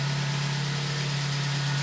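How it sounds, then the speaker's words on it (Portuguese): A Gol G4 two-door car engine idles with a steady, loud low hum and constant vibration, running alone without talk; the owner reports a strange noise while it runs. "Agora eu vou abrir aqui para mostrar para vocês o barulho que faz lá no motor"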